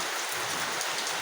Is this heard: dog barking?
no